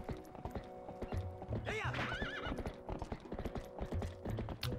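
Horse hooves clip-clop in a steady trotting rhythm across a bridge in Zelda Twilight Princess, with a brief whinny rising midway; a continuous game soundscape hums underneath.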